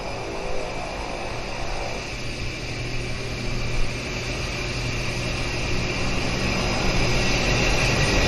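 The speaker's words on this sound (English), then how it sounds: "It is the Twin Otter, and it is the Twin Otter that's inbound from the island, from Victoria." A de Havilland Twin Otter floatplane inbound from Victoria drones steadily over Vancouver Harbour, a broad continuous engine roar that swells slightly as it nears, with no talk over it.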